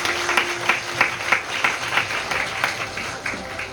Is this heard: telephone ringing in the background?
no